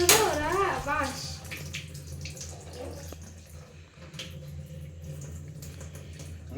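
Water poured over food being washed in a bowl at home, a brief splashy pour at the start followed by lighter sloshing and trickling as someone talks over it.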